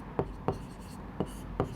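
Marker pen strokes on a board during a maths lesson, four short separate scratchy squeaks spaced irregularly, close and fairly quiet with no talking.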